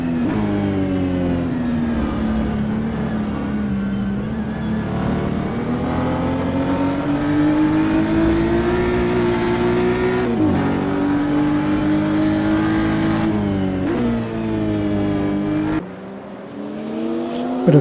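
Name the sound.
BMW M2 CS race car engine in racing sim game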